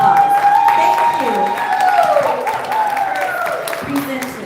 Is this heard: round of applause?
yes